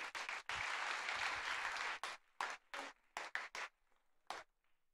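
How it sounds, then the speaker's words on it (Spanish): Church congregation applauding to welcome a woman to the pulpit: a loud burst of crowded clapping lasts over a second, then breaks into a few scattered, uneven claps that trail off. "Vamos a recibirla con un cariñoso aplauso"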